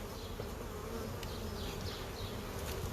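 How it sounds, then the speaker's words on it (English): Honey bees buzz steadily at a hive, a dense continuous drone from many insects close by, with no voices heard. "All right, there's a lot of bees in here"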